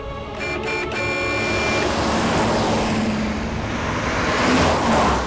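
A car speeds along a busy road amid heavy traffic noise, a steady loud broadband roar of passing vehicles that swells slightly toward the end.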